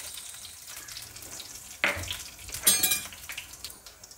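Green chilies dropped into hot oil for a dal tadka, a sharp crackling sizzle that bursts in suddenly, then a second spitting flare of frying with clinks of the pan.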